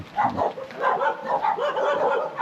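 Dogs on guard around an abandoned mountain house near Madaesan, yapping and barking in a busy, continuous stream of overlapping yips at moderate distance.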